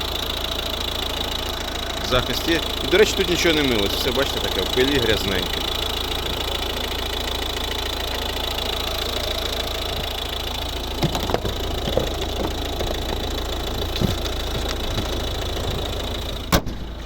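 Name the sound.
Volvo V50 1.6 D2 diesel engine idling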